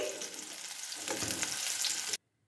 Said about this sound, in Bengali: এবার কাঁচকলাগুলো একটু আমি ভেজে নিচ্ছি